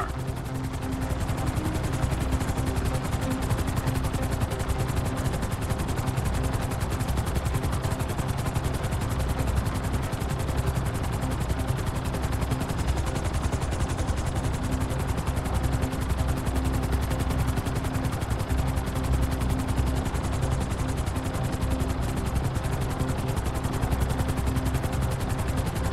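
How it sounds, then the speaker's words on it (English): A helicopter in GTA V drones continuously and loudly with a dense, rumbling rotor-and-engine roar that stays level throughout, no speech over it. "I get out of the chopper here, I'm gonna pass out."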